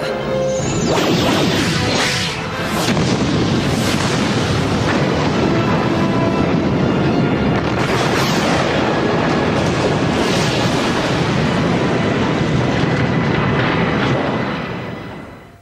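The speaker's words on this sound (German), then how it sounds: "Eine Explosion im All." A sound effect of a space station exploding in space: a massive rumbling explosion with a sharp crash, then a sustained roaring blast of debris and noise that stays loud for over ten seconds before tapering off.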